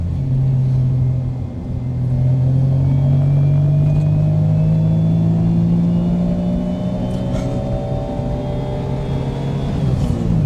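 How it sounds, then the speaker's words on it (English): Engine of a Mazdaspeed Autozam AZ-1 kei sports car, mounted right behind the driver, droning loudly and steadily from inside the cabin as the revs slowly climb and ease off, with low road rumble underneath. "The fact that you can hear the engine right behind you"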